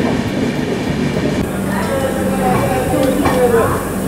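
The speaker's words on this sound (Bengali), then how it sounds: "আমি এখন ঢুকছি রাউরকেল্লা জাংশন।" Samaleswari Express train rolling into Rourkela Junction at night, a steady close rumble of the carriages with faint wheel squeals and clatter over about four seconds, no talk.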